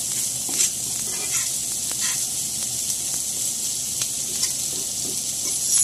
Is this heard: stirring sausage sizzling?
yes